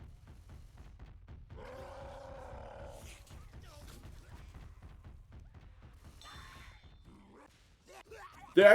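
The Tank in Left 4 Dead lets out a growling roar near the start of a match on the Haunted Forest map, under commentators' talk and low game rumble, with a loud burst at the very end.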